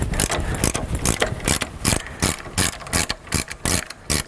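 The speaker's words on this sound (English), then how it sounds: "get your spanner and socket on" Ratcheting spanner and socket working a nut loose on a Range Rover P38 steering damper, a fast run of close, loud metallic clicks and pawl rattles in repeated bursts, with no talking.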